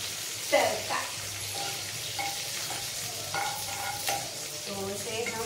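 Spices sizzle loudly in hot oil for an Indian tadka tempering, a constant crackling hiss with scraping stirs and soft talk underneath.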